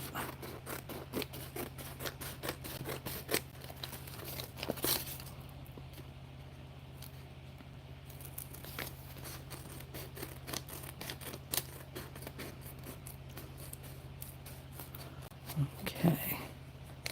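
Scissors snip repeatedly through paper during a puffy paint craft, a run of quick, faint close cuts that pause midway and resume, with a low steady hum behind.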